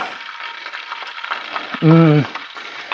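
Breaded chicken frying in butter in a pan gives a steady, close crackling sizzle throughout, with a brief humming tone rising over it near the middle.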